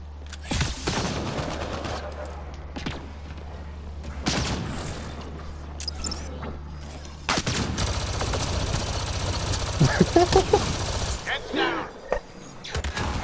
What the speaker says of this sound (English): I like this assault rifle. I might switch all of my Avenger users to this assault rifle.